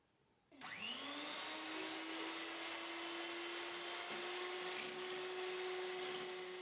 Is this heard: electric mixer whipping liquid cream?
yes